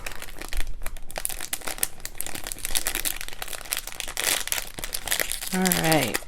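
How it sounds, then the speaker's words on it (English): Packaging crinkles and crackles in fits while wire packs for earring making are opened, close and busy. A voice talks briefly near the end. "Sorry for that crinkling noise."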